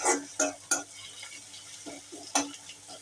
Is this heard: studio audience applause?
no